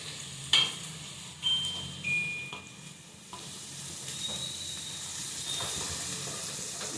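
Okra (lady's finger) frying in a pan, a soft, low sizzle with occasional stirring clinks and scrapes, close and fairly quiet, with no talk.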